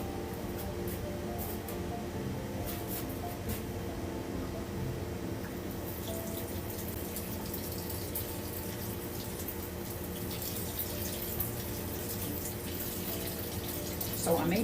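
Water pours steadily from a watering can onto potted plants indoors, a continuous close trickle and splash that runs unbroken and slightly intensifies near the end.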